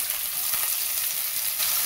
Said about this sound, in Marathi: आता हे कांदा टाकून घेते